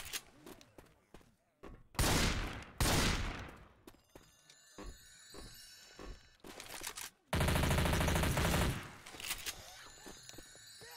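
The Spectre submachine gun in Valorant rattles off in fast automatic bursts, loud and close, separated by short pauses filled with other game sounds and clicks.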